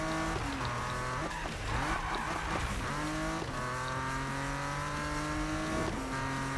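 Car drifting in the video game Need for Speed 2015, with a loud engine revving and tires squealing in long sliding screeches as it corners, running continuously with no talk.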